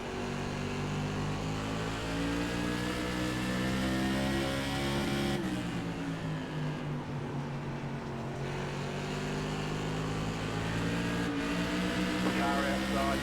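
NASCAR Modified race car engines at New Smyrna in the iRacing oval game, a loud steady drone with harmonic whine that dips briefly mid-clip as throttle eases, then builds back up, with other cars nearby.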